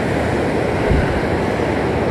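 Water pours over the weir on the River Dove in a dense, steady rushing roar, close and constant with no talking.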